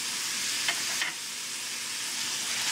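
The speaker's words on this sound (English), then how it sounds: "Mix this together." Pumpkin sloppy joe filling sizzles in a hot pan with a constant bright hiss and a couple of faint scraping stirs early on, no talking.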